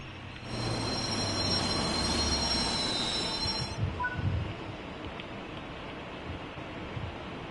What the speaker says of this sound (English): because I was trying to stop my train.